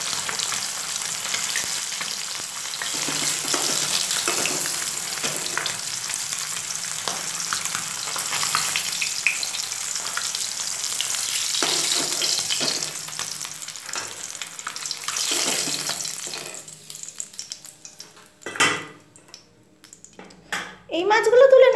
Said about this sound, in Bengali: মাছগুলো ভাজা আমার হয়ে গেছে, এবার কড়াই থেকে মাছগুলোকে আমি তুলে নেব।